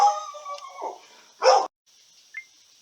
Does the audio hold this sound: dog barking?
yes